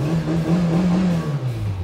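A Peugeot 405 engine, started in bitter cold around minus 27 degrees, idles with a steady close-up hum and swells slightly in a brief rev toward the end.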